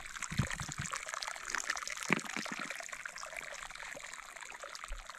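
Hot spring water trickles and splashes steadily at a natural travertine pool along a highway, close and continuous at moderate level with a few louder gurgles, no talking.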